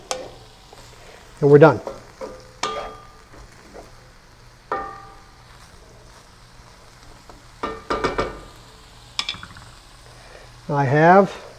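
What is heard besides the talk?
stirring ingredients into white wine in a sizzling pan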